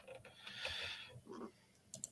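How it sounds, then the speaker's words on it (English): Quiet typing on a computer keyboard, a few soft key clicks scattered over a couple of seconds, faint and close with no talking. "that is my keyboard"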